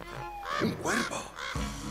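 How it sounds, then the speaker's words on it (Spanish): A crow in the video game Dreams gives a few harsh, nasal calls in quick succession, fairly close and moderately loud, with short gaps between them. "¡Un cuervo!"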